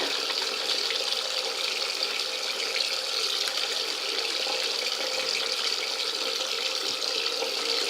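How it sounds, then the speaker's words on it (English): A tap runs steadily as a blood-stained cloth is rinsed under it, making a continuous close gush of splashing water with no talking. "Rub, rub. Rinse, rinse. Rub, rub. Rinse, rinse. Rub, rub."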